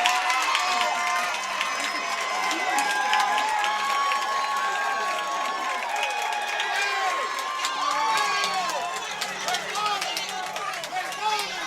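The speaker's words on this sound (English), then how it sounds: "I just lay out there for a second and listen to the crowd, the excitement." A large crowd at a high school football game in Chattanooga cheers and roars continuously, a dense wash of voices and whistles with scattered shouts rising over the din throughout.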